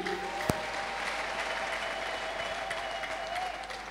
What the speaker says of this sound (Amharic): ከለጌታ ታላቅ እልልታና ጭብጨባ አርጉልኝ።